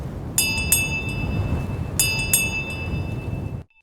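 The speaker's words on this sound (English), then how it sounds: "A bell rang in the wind." A bell rings out in the wind, two pairs of bright metallic strikes with ringing tails over a steady windy background, fairly close, with no voices.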